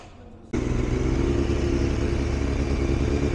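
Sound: Honda Fireblade superbike engine during warm-up

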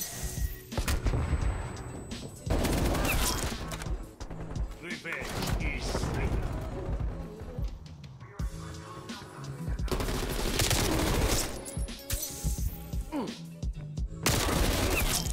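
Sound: FARA 83 gunfire in Call of Duty Cold War video game

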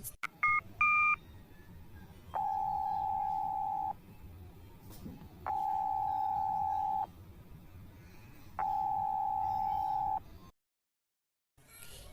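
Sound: telephone call ringing, not answered

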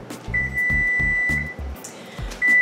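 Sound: oven timer beeping

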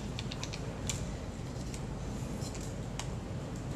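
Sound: winding film on a manual film camera

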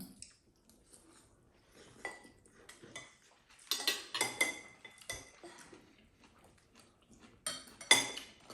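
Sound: spoon scooping rice from a dish

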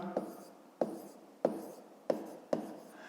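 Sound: writing a math calculation

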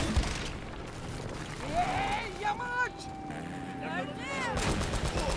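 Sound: gunfire in video game Uncharted: Drake's Fortune

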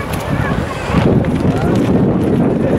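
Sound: wind by the river

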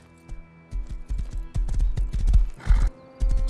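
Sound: horse neighing and hooves in the video game Rust

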